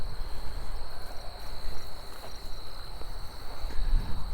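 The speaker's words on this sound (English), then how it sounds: "Raising grasshoppers" Grasshoppers flush from hillside grass in Regina, Saskatchewan, giving a steady high insect buzz over the soft rustle and thud of footsteps walking uphill.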